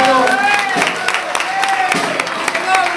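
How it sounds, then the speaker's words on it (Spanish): Applause for a trophy winner honoured as a club's fifth-highest scorer with 25 goals, dense and sustained clapping from a crowd at an awards ceremony, mixed with some voices. "Fuerte el aplauso"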